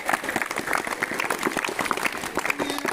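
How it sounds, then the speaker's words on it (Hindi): Children applaud together in a dense, lively burst of clapping that stays steady and close throughout, with faint voices mixed in. "एक बार जोरदार अपने लिए ताली बजाएं"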